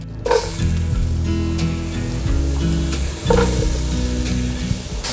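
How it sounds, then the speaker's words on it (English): Onion and poblano peppers sizzle loudly in pan drippings, a dense close hiss broken by a couple of stirring scrapes and bursts as the vegetables are moved around. "into our drippings, we are gonna add onion and poblano"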